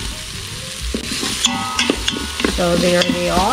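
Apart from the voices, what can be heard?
onion, garlic and ginger sautéing in Instant Pot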